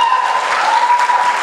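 A seated audience at a family achievers' reunion event claps in a steady, dense burst of applause, loud and close, with no talking over it.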